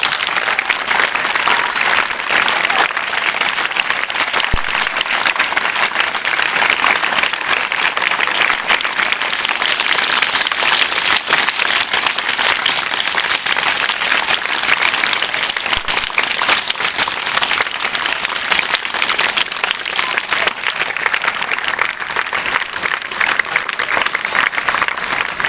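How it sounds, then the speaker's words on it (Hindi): A large school audience at SP Model Town gives sustained, loud, dense applause that holds steady for about twenty-five seconds without a break. "पूरे 10 सेकंड के लिए पूरी आवाज के साथ तालियां होंगी"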